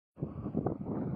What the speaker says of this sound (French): Là, le vent il se renforce.